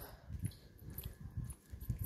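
A dog barks and whimpers in short bursts at a moderate distance outdoors on a foggy early morning, several quiet yelps spaced across a couple of seconds.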